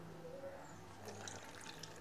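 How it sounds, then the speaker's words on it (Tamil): Water poured from a tap into fish curry masala runs faintly and briefly, a soft splashing trickle with small drips under a low background hum. "இதில் தண்ணி விட்டுக்கலாம் தேவையான அளவுக்கு."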